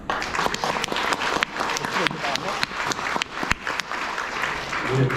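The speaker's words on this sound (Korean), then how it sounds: "오늘의 신랑 신부가 오늘의 이 마음, 이 기쁨, 이 약속을 변함없이 지키면서 평생을 행복하게 잘 살아라 하는 축복의 박수 한번 부탁드릴까요?" Guests at a Korean wedding ceremony applaud together, a dense, sustained burst of clapping that fills the hall, with voices mixed in among the crowd.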